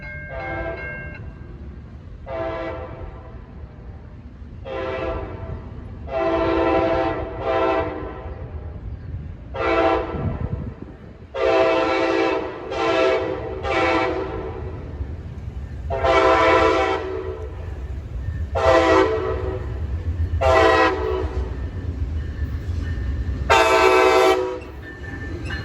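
A northbound passenger train led by two P42DC locomotives sounds a long series of loud, close horn blasts in short and long bursts over the steady rumble of passing railcars.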